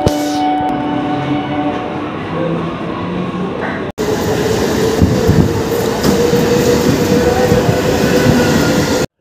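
A train moving through Kalyani Ghoshpara railway station, loud and near, first with a steady tonal hum and then a dense, continuous roar of wheels and carriages rolling past.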